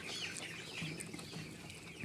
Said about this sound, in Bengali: আপনারা দেখতেই পারতেছেন যে আমার ব্রয়লার মুরগির বাচ্চাগুলোতে খাবার খাচ্ছে